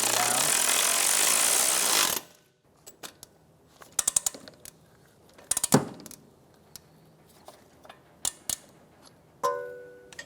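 Ratchet wrench tightening a strut mount bolt on a 2012–2016 Subaru Impreza, with scattered bursts of quick metallic clicking separated by pauses, close up, after a short stretch of broadband noise at the start.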